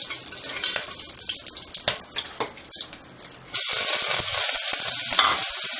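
Crushed onion and curry leaves drop into hot oil with spluttered seeds, a crackling sizzle with a few stirring knocks that jumps to a louder, brighter hiss partway through, close and without talk.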